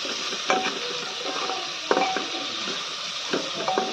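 Ground spices, including cumin and coriander, fry with chicken in a pan for a children's chicken soup, a close steady sizzle broken by a few sharp scraping stirs of a spoon against the pan.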